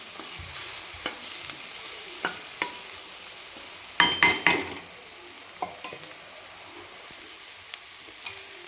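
Egg and fenugreek leaves stir-fried in a pan for methi egg rice, a faint steady sizzle under scattered scraping clicks of a spatula, with a brief cluster of louder clatters in the middle.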